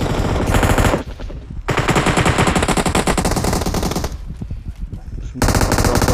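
Bursts of rapid automatic gunfire in the mobile battle royale game PUBG Mobile, loud, close sustained rattling volleys broken by two short pauses.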